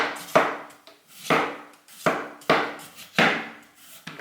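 A cheap Damascus-steel kitchen knife slicing through food on a board, five distinct cuts in a steady rhythm, each a crisp chop followed by a short scraping slide, close and fairly loud with no talking.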